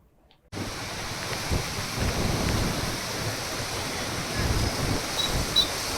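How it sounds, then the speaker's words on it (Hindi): Heavy monsoon downpour with a mini cyclone over the towns and villages of Mendarda in Junagadh, Gujarat: a dense, steady roar of rain that starts abruptly and continues loud without a break. "मिनी चक्रवात के साथ धुआंधार बरसात बरस रही है"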